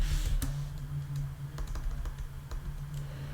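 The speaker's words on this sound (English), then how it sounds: "So we're going to type in" Steady typing on a computer keyboard, a continuous run of fast, close key clicks with a few louder strokes, with no voice over it.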